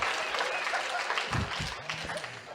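A live podcast audience applauds, a dense burst of clapping that carries steadily through the whole moment, with a voice briefly cutting in beneath it.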